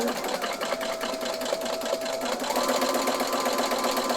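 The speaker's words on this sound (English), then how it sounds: "The walking foot is also known as a dual feed foot. I'm going to pop that on there and we're going to sew." A sewing machine fitted with a walking foot stitches lightweight Style-Vil foam interfacing: a fast, even mechanical whirr running close and continuously, rising slightly in pitch and speed partway through.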